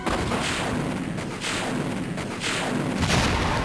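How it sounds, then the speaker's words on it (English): A video game explosion from Resident Evil Deadly Silence rumbles as a sustained, noisy roar with repeated thudding bursts, dense and fairly steady throughout. "we get that explosion"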